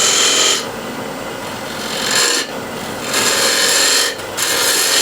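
A spindle gouge shears across a large wooden platter spinning on a lathe, giving a steady loud broadband scraping rasp in three long passes with short gaps between cuts.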